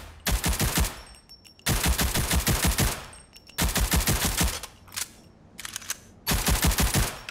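Automatic gunfire on a firing range in the shooter game Rogue Company: four loud, rapid bursts of shots at targets, with short pauses between them and no talking.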